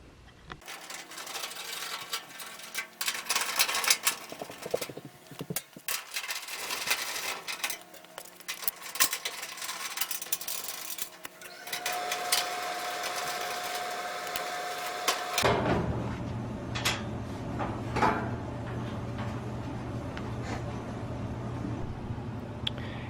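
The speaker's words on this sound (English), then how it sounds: "Okay, let's get the back of the dryer off." The back panel of a clothes dryer is taken off: scattered metallic clicks, scrapes and rattles of tools and sheet metal, with a louder steady whirring hum filling the final part.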